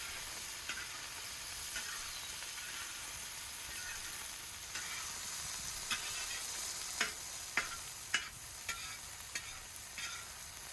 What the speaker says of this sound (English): In goes the diced meat, and it's already starting to smell amazing